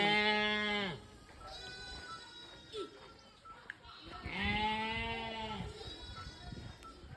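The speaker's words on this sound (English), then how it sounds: "More sheep grazing." Grazing sheep give two loud, close, drawn-out bleats a few seconds apart, with quieter bleats and soft outdoor background between them and a voice faintly in the mix.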